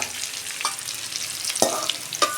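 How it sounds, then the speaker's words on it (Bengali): Squeezed soybean chunks go into hot oil in a pan, where they fry with a soft, steady sizzle and a few brief stirring scrapes, close and quiet with no voice. "সয়াবিনটা আমি চিপে চিপে ওই তেলেতেই আমি দিয়ে দিচ্ছি।"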